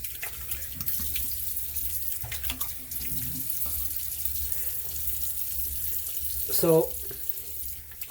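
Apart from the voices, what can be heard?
rinsing a Gillette razor under a running tap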